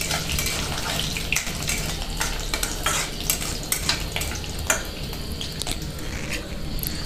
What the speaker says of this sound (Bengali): তেলে দেবো গোটা জিরে, দুটো শুকনো লঙ্কা ও তেজপাতা